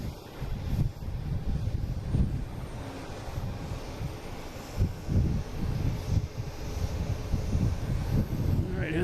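A Delta Embraer E175 airliner, flight from JFK, comes in to land over Pleasure Bay, giving a steady, broad low engine roar that swells and fades slightly throughout.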